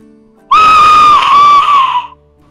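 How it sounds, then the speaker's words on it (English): A single piercing, scream-like blast from an Aztec death whistle, loud and close, holding for about a second and a half before trailing off into quiet. "I brought along my Aztec death whistle"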